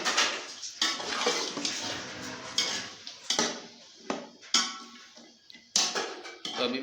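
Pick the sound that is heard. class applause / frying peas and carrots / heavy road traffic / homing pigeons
frying peas and carrots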